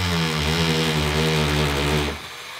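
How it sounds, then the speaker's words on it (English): Power drill boring an angled pilot hole into a wall stud for a home dojo band station, a loud steady whining drone held for about two seconds before cutting off, close by with no talk. "So now that we have our pilot holes drilled"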